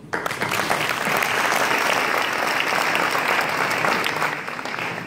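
A crowd at a mayor's New Year wishes ceremony in Roncq applauds in a full, sustained wave of clapping that holds steady for several seconds and tapers slightly at the end.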